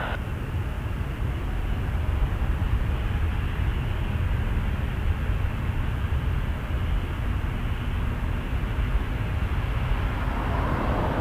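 A Porter Embraer 195 E2 jet airliner at Toronto Pearson Airport gives a steady, loud low roar that holds evenly for about eleven seconds, with no voices.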